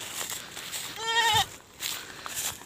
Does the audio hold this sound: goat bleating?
yes